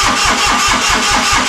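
An engine running steadily with a loud, even low thumping rhythm, heard alone and close by.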